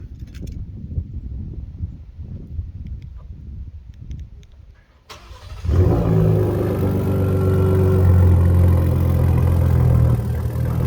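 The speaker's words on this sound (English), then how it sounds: "Let's get a little cold start." A Ford Raptor with the 3.7 V6 starts cold after quiet background rustling, catching abruptly into a loud, steady high idle that stays strong and close until the end, with no talking.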